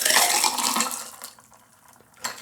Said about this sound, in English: I'm just going to pour it back in.